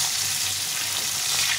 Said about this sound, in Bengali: মাছটা একদিকে ভাজা হয়ে গেছে